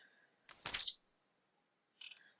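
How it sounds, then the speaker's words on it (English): A page-turning sound effect: two brief papery swishes about a second and a half apart, the first fuller and louder, the second lighter, alone against quiet. "Turning page."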